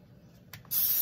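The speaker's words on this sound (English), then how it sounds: "you have to make sure you spray it really good on both sides" Cooking spray bursts from a can onto eggplant slices in a skillet, a short hiss followed by a steady, loud spray that carries to the end.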